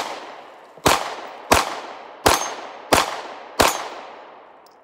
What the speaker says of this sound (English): I'm going to do 5 shots at the clays, followed up by 5 shots on the steel.